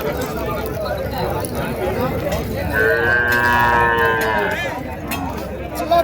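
Native calves moo at a busy cattle market at Matrapalli, one drawn-out bellow rising clearly above the steady murmur of the crowd and livestock.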